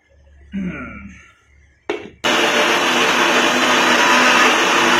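A kitchen blender grinds ingredients into a paste for a weight-gain breakfast, starting with a few short noises before the motor roars up loud and steady for the last three seconds.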